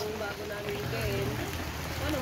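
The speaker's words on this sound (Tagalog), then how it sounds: "Kasi umuulan guys." Steady rain falls on a rooftop microwave antenna installation and retrofitting site, a broad even patter running throughout with faint background voices.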